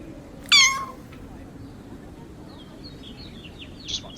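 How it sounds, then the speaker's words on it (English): A tiny kitten gives a single sharp, rising-and-falling mew close by, then fainter chirpy mews follow near the end over quiet background hiss. "Her soft mews echo the collective longing for Keros's"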